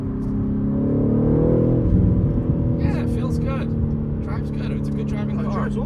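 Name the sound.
BMW G80 M3 exhaust note while driving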